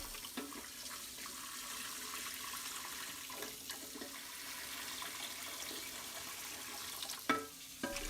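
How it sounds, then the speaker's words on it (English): Clean water runs into a pressure cooker holding jars for mushroom seed spawn, a faint, steady, continuous flow with a few small knocks and a louder clunk near the end; no speech. "we want clean water to go into the pressure cooker"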